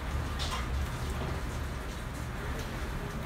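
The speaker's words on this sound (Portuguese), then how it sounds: "Muita chuva." Heavy rain falling outdoors during dinner preparation, a steady dense hiss with scattered droplet patter and some wind, moderately loud and continuous with no talking.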